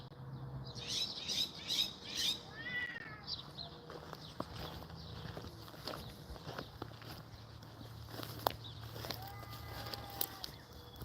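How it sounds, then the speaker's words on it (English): A cat caught in something out behind a shop gives a few high, faint meows early on, amid outdoor ambience with bird chirps and occasional footsteps. "We're looking for a cat that's caught in something right now, out in the back of the shop."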